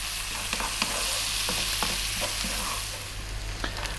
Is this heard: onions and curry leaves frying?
yes